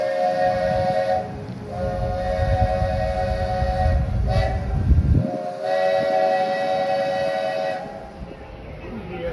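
A Walt Disney World Railroad train at Magic Kingdom rumbles past with a sustained multi-tone whistle sounding in long blasts, loud and close, the rumble dropping away near the end.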